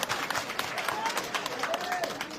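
A village assembly of the Thakor community in Korada, Santalpur, breaks into scattered, fairly faint clapping of approval, with a murmur of people throughout.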